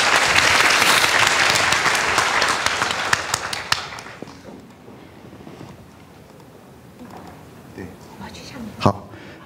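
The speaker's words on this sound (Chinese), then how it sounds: "我们先给张清平建筑师一个掌声" An audience in a university lecture hall in Taiwan applauds to welcome an architect. Loud, dense clapping swells at the start and tapers off over a few seconds into quieter room sound with a few scattered claps and some talk.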